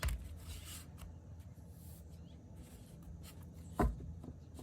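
A deck of tarot cards is shuffled by hand in a quiet room, with soft riffling and sliding bursts spread across the stretch and one sharper tap near the end, no talking.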